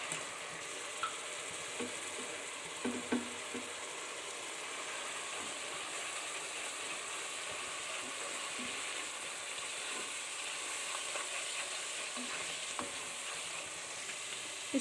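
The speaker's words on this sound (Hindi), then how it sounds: "इसको आप 2 से 3 मिनट्स के लिए हम लोग फ्राई होने देंगे।" Chopped tomatoes and masala spices frying in a pan for dhaba-style mash daal, a continuous soft sizzle and crackle with occasional stirring scrapes, steady and unbroken, no voices.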